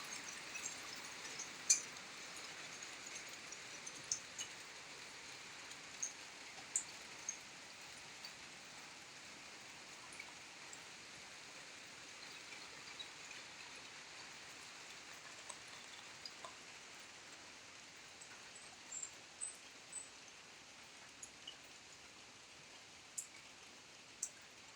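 Soft, steady rainfall in South Cotabato hisses quietly in the background, dotted with occasional sharp drips and light ticks landing on a surface.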